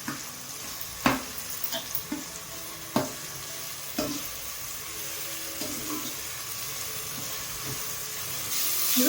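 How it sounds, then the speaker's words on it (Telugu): Garlic frying gently in a pan over a medium flame, with soft continuous sizzling broken by a few sharp clicks of utensils and faint background clatter, no voices. "నిదానంగా వేగనివ్వాలి"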